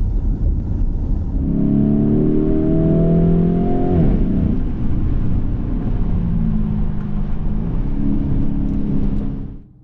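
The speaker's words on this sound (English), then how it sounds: "This is the Lamborghini Urus. This is a 4-litre V8 twin turbo." A Lamborghini Urus with a 4-litre twin-turbo V8 accelerates hard, its engine note rising through the revs, dropping at a gear change, then climbing again loud and close before cutting off at the end.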